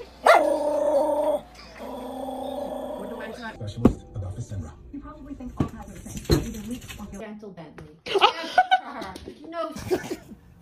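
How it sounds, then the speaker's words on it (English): A pet dog barks and growls in playful bursts, close and lively, mixed with laughter and people talking over it. "Stupid dog!"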